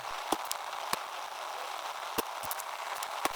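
A campfire in the survival game Rust cooking raw human meat gives a steady soft crackling hiss, broken by a few sharp pops and snaps spaced irregularly through the clip.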